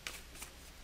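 A deck of game cards from the Earthborne Rangers board game is shuffled, giving two quick soft riffling bursts close by and quiet overall.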